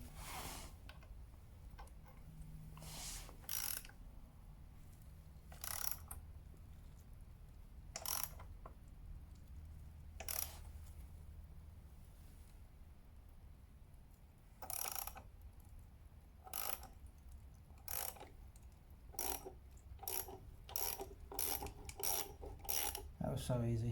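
Bolts tightened on a Ducati Monster 796 motorcycle with hand tools, a series of sharp metallic ratchet clicks and scrapes, sparse at first, then quickening into rapid runs near the end, close and quiet.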